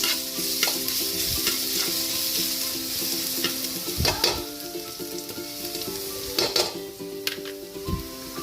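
Garlic sizzles steadily in hot oil for ginisang ampalaya, with a continuous frying hiss and occasional sharp scrapes and clanks of a spatula against the pan.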